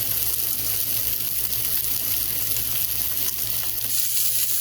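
A burger patty for a Texas BBQ-style burger fries in a hot, smoking pan, giving a loud, steady, close sizzle that runs unbroken throughout with no voices.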